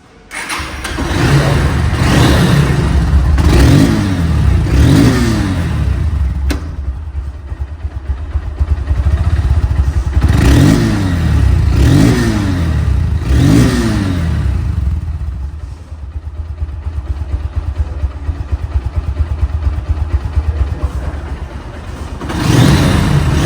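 A Honda CBS Hornet motorcycle in showroom condition idles and revs up in several bursts, a loud close engine climbing and dropping in pitch with steady throbbing idle between revs and no talking.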